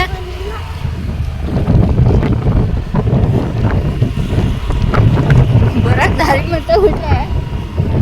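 Strong wind buffets the microphone while riding a two-wheeler in Coorg, a constant rushing roar with people talking over it.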